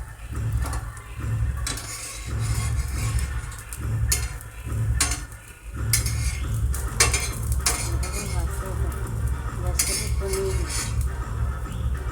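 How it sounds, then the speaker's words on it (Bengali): Pieces of bread frying in ghee: a sizzling hiss under busy metal clatter of a utensil stirring and scraping the pan, with a low hum beneath and sharp clinks throughout. "তো পিস পিস করে পাউরুটিটা কেটে রেখেছি, এটা ঘিতে ভাজবো।"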